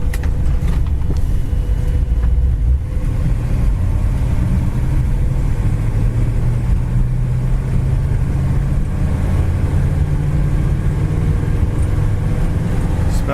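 A white 1959 Ford retractable on new tires cruises down the road, its engine and road noise a steady, loud low drone inside the car throughout.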